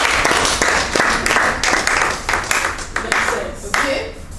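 Audience clapping at a business opportunity expo, a steady burst of hand claps with uneven rhythm that rises and fades over several seconds, with voices murmuring underneath.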